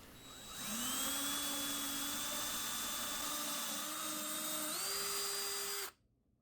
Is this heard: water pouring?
no